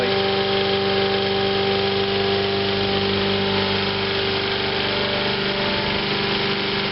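A grandparents' lawnmower engine runs steadily to burn off its remaining gas, a loud, continuous close-up drone with a constant pitch and no talk.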